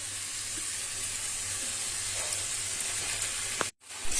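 Chicken tipped into a pan of frying potatoes and spices, with continuous sizzling and light stirring that cuts off abruptly near the end.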